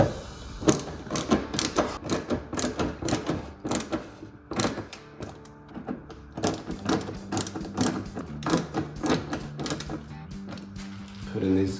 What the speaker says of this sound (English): We'll put these screws back in.